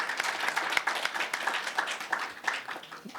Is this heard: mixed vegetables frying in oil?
no